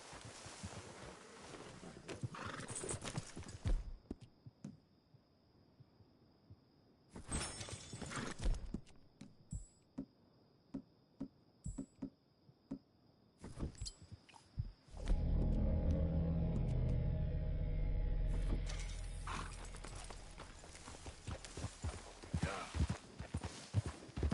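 Horse hooves clip-clop in Red Dead Redemption 2, with rhythmic steps over a low rumble of wagon and game ambience, coming in bursts separated by quieter stretches.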